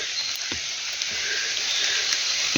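Steady rain falling in a forest during a June mushroom hunt, a continuous close patter with a few louder drips, heard alone without talk.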